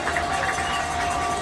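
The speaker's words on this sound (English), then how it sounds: "that's just the people on their feet here cheering on the Blue Jay defense" A football crowd stands cheering on the Blue Jay defense at a Tabor College versus Southwestern College game, a broad, sustained roar from the stands with a commentator talking over it.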